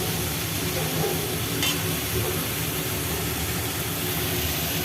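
Water added to a hot cooking pot of sattu-based curry in a home kitchen produces a loud, steady sizzling hiss that fills the whole few seconds without letting up.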